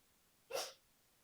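One short, sharp sneeze from a dog, close by and alone against a quiet background.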